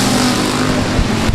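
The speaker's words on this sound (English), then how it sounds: "Big Junior drives it in deep there to the outside of the Canyon Solutions." Dirt-track race cars at Timberline Speedway roar loudly in a dense, sustained engine drone with a slight shift in pitch as they race past.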